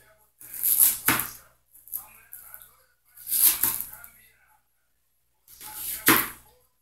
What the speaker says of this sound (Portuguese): Iremos picar também a cebola para facilitar ser triturada.